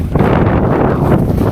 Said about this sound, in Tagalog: Ang iniisip lang po namin yung ihip ng hangin na sobrang lakas